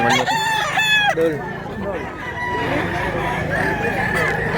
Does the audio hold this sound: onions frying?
no